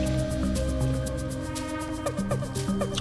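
A homemade herbal drink is poured off, with liquid gurgling and splashing in short wet bursts and soft drips, close and moderately quiet, with no talking.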